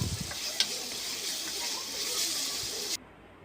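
Sliced onions, green chillies and ginger garlic paste sizzle steadily in a hot pan while being stirred, with a faint scrape of the spoon early on; the close frying hiss cuts off abruptly near the end.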